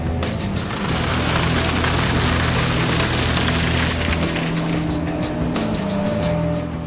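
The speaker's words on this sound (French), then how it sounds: "La récolteuse est entraînée par un moteur Mercedes-Benz de 626 chevaux." A Ropa Tiger 5 three-axle sugar beet harvester driven by a 626-horsepower Mercedes-Benz engine runs at work, a loud steady engine drone with deep humming tones and a constant broadband roar of machinery, without talk.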